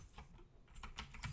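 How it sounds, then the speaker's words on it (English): Keys on a computer keyboard clatter in quick, faint, irregular taps, close by, over a low background rumble. "I'm really bad at typing today"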